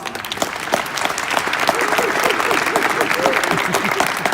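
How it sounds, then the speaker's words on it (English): Audience applause at a conference presentation, continuous clapping from a sizable crowd, steady and fairly loud throughout, with a voice faintly audible beneath it. "Please give him an applause."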